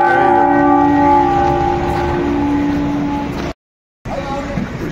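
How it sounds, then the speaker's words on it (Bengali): The clock tower bell at Lal Chowk in Srinagar rings loudly in the early morning, one sustained, humming strike fading slowly before a brief cut, then faint ringing resumes. "এখন ঘন্টাটা বাজে"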